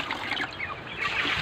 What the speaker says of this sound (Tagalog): Diligan natin ng maraming tubig